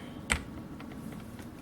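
A single hard keystroke clacks on a Rosewill RK-6000 keyboard with a failing key, followed by a few faint, softer taps in a quiet room.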